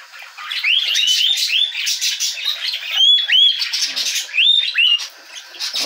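Parakeet chicks in a nest give repeated loud, rising squawks and chirps in quick overlapping bursts, close up and without talk.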